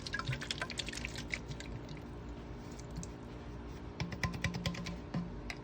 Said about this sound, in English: We're going to put a little bit more I was water.